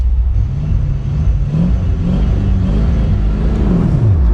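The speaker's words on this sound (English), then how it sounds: "No fancy trickery, just full throttle off the line." A C3 Chevrolet Corvette with a 3-speed manual launches at full throttle, its engine roaring loud and close in a steady, rising rumble as the revs climb and fall with each shift.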